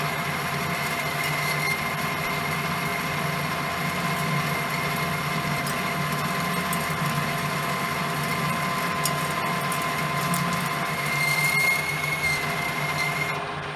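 A metal lathe takes a boring cut inside a steel sprocket boss with a small boring bar. The machine hums steadily with a faint high tonal whine from the cutting, continuous and fairly quiet throughout, with no talking.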